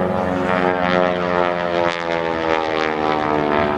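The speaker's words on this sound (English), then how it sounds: "Eddie rolls the Super Stearman into the 90-degree knife edge, showing you the beautiful profile of this great big venerable biplane" Boeing Super Stearman biplane flying aerobatics at an airshow, its radial engine giving a loud, sustained propeller drone and roar with slight swells in pitch as it passes.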